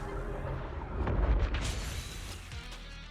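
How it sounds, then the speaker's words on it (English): Explosion in the video game Zenless Zone Zero, a single muffled low boom swelling in the middle and fading out with some scattered crackle. "Explode."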